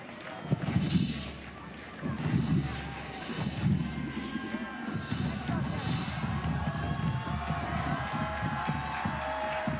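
A stadium crowd of Seattle Reign fans at a women's soccer match against FC Kansas City, a steady murmur with scattered shouts and rhythmic thumps, heard in the distance under a commentator's voice.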